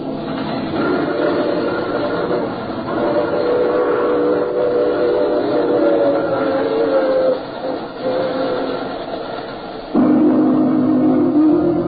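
A train rumbles steadily in a radio drama, an old-fashioned sound effect with a continuous mid-range roar and rhythmic clatter, heard alone and fairly loud, shifting slightly near the end.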